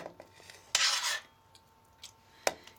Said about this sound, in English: The first thing I'm going to do is just serve some into a bowl.